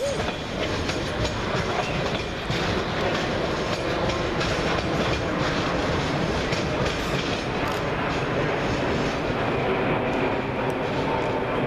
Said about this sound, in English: going in the opposite direction is 21533 and 21534 with the 1534 London Underground District Line service to Upminster